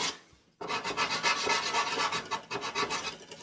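A 150 grit sanding block rubbed over wood in quick, steady back-and-forth strokes, a close, continuous raspy scratching that begins after a brief pause and keeps going without talk.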